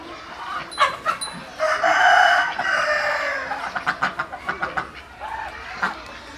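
A village country chicken squawks loudly in a frantic burst as it is caught, then gives a run of rapid, choppy distressed cries, close and with no talk.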